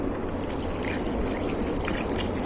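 Water pours and trickles steadily onto potted cactus plants in hot weather, a continuous close splashing flow with no break.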